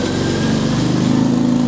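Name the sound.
Jaguar XJ6 4.2 litre engine idling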